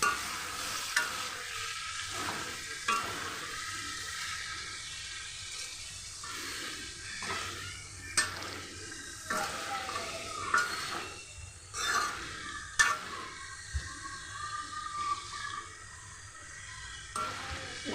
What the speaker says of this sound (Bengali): এখন আমি কষানোর পরে আলু আর বরবটি কেটে রাখা বাটিটা দিয়ে দিচ্ছি। এখানে আমি নুনও দিয়েছি পরিমাণ মতো। এখন ভালোভাবে নেড়ে ছেড়ে দিব।